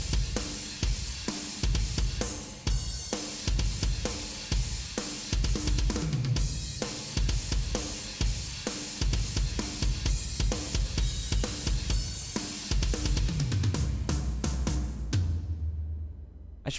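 A drum kit fitted with Paiste and Zildjian cymbals plays continuously, with dense washing cymbals over punchy kick and snare hits in a driving rhythm that stops abruptly near the end.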